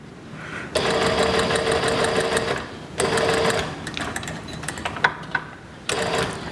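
A sewing machine stitches a shirt cuff in loud, fast bursts of rapid needle clatter, stopping and restarting several times with short quiet gaps and small clicks between runs.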